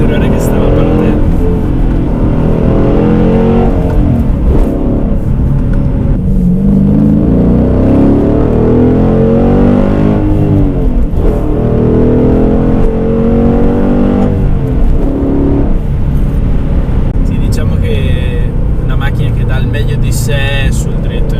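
A Dodge Challenger SRT 6.1 Hemi accelerates hard with a deep, loud V8 rumble. The engine climbs and drops through repeated rising sweeps, and someone talks over it throughout.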